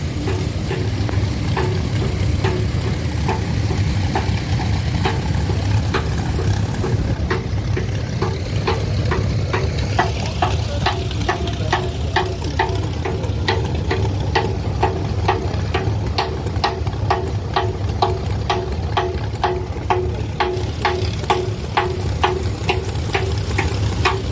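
Tractors in a parade at Ardingly rumble by in a steady, close engine drone, overlaid with a rapid regular ticking from the running motors that continues unbroken throughout.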